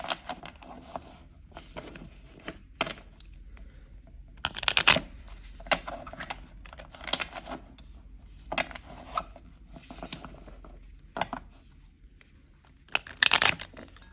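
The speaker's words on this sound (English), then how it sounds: "We're going to also go ahead and pull our heart and mind card." Oracle cards are shuffled and drawn in repeated short riffling and flicking bursts, close and crisp, separated by brief quiet gaps over a faint background hiss.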